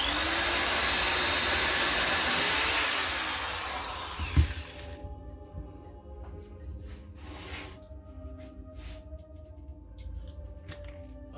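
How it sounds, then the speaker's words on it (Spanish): Power drill countersinking holes in wood for a doll wardrobe, a loud whirring spin for about four seconds that winds down, followed by quiet handling clicks and knocks. "avellanamos"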